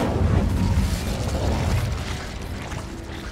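A fire spell cast in Hogwarts Legacy, a dense burst of crackling, rumbling flame energy that starts loud and slowly fades over a few seconds, heard alone without talk.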